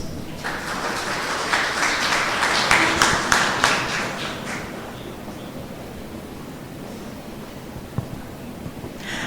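An audience at a public hearing on a municipal master plan applauds a speaker, a dense wash of clapping that swells early and then thins out, with a few scattered claps near the end.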